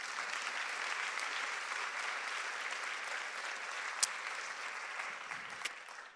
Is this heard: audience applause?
yes